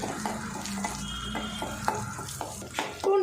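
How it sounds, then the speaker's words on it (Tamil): Shallots and whole garlic cloves sauté in hot oil in a pan, a continuous sizzle under repeated scraping and clattering strokes of a spoon stirring them, close and fairly loud, with no talking. "சின்ன வெங்காயம் பார்த்திங்கன்னா இந்த அளவுக்கு வதங்கினா போதும்"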